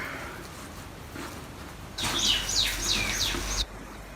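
Garden birds sing close by, with a bright burst of quick chirping and trilling notes over a soft hiss of wind and faint rustling beforehand.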